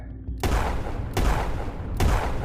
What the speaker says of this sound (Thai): เสียงปืนแผดลั่น